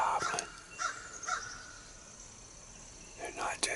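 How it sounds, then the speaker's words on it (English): Crows cawing beside a clover field, several harsh calls from a few birds at a moderate distance, with a few more near the end over a steady outdoor background of insect buzz and a low hum. "Crows are raising cane and there's two goblins."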